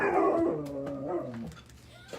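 A dog lets out a drawn-out howling whine that wavers and fades, close by, with a faint bark-like yip near the end.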